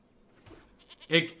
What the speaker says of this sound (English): Alright, have a goat, I guess.